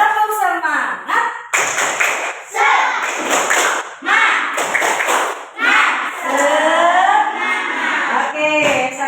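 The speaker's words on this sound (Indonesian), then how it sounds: "Tepuk semangat." A group performs a rhythmic spirit-clap (tepuk semangat) in a classroom, bursts of patterned claps interleaved with voices chanting together and a leader's talk.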